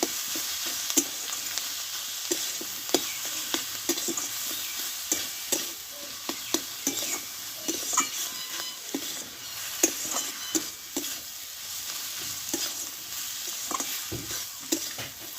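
Boiled potato and shredded cabbage being stir-fried in a pan with coriander leaves, a steady sizzle with frequent scraping and stirring clicks from a spatula throughout, close and moderately loud.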